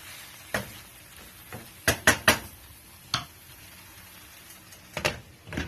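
A metal spoon clanks against a pan in a few sharp, close knocks and scrapes as wheat rava upma is uncovered and stirred, with soft sizzling in between.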